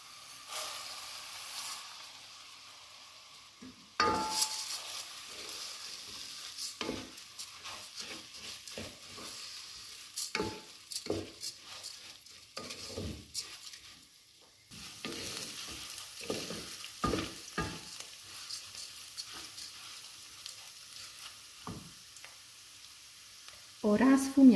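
Onion and then rice sauté in a pan for asparagus risotto with a loud sizzle that drops away and then returns, along with repeated scraping stirs and clinks of the utensil.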